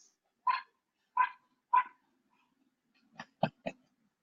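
A dog barks: three evenly spaced sharp barks, then a pause and three quicker, shorter barks, moderately close against near silence.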